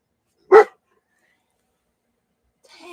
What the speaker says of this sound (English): I think my dog's talking to you.